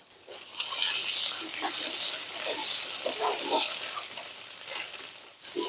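Lentils (dal) tipped into a pan of frying reddened onions, a bright steady sizzle with bursts of crackle and stirring, moderately close, while someone speaks softly over it.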